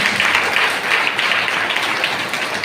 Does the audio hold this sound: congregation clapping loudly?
yes